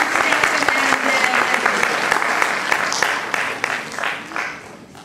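Sustained applause from an indoor audience at an Onam 2011 community gathering honouring the festival helpers, dense steady clapping that fades slightly toward the end.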